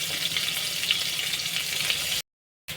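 Chopped onion and green chili sizzle in hot oil for a ghugni, a steady close hiss of frying that cuts off abruptly into brief silence near the end.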